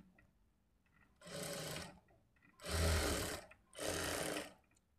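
A sewing machine stitches blouse lining fabric in three distinct runs, each a steady mechanical whir lasting under a second, separated by short pauses, close and moderately loud.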